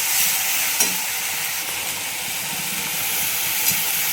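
Sprouted moth beans being sautéed in oil with turmeric and garam masala in a pan, a steady close sizzle and hiss with light stirring clicks, no voices.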